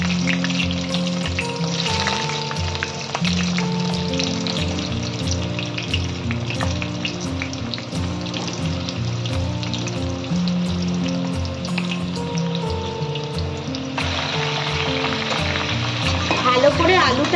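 Boiled potatoes frying in hot oil in a pan for dum aloo, a loud, steady sizzle and crackle lasting throughout, with occasional stirring scrapes over background music and no speech.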